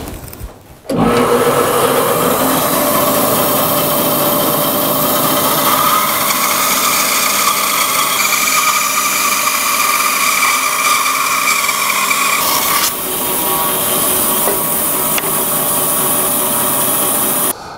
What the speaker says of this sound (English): I'm going to be cutting this 3/4 inch thick piece of wood down in half